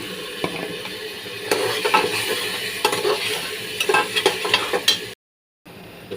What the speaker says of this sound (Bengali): গরম মশলা কষাইতেছি